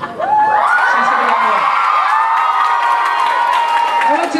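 A middle-school crowd of children cheers and whoops loudly for Miss Smith during a spirit week contest, a dense, steady roar of shouting voices lasting several seconds.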